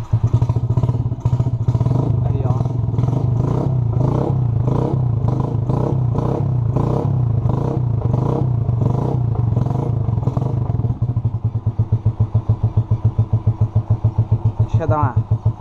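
A custom motorcycle on a dirt road runs at a steady idle with a close, rhythmic thumping beat. A voice talks over the engine throughout.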